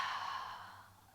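Soft, airy exhale during a beginner shoulder and chest yoga practice, a single steady outbreath that fades gradually over about a second, close and quiet with no talking.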